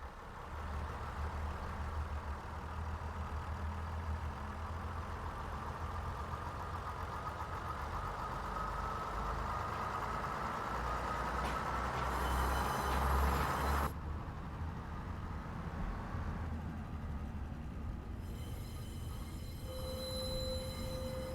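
A Class 142 Pacer diesel train on the Huddersfield Line, heard from inside with the windows open: steady engine drone and rumble that rises in pitch, then drops sharply as the gear changes, followed by a lower settled running note.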